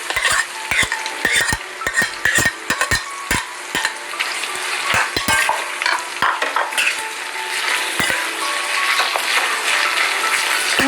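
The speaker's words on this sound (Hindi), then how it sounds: "हमें अनियन को भूनना है" Onions frying in a mix of ghee and oil while being stirred, with a steady close sizzle and repeated sharp scrapes and clinks of a spoon against the pan throughout, no voices.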